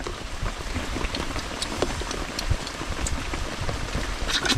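Rain falls steadily on a rainy day, a dense, even patter of drops on surfaces with occasional louder splashes, moderately loud and with no voices.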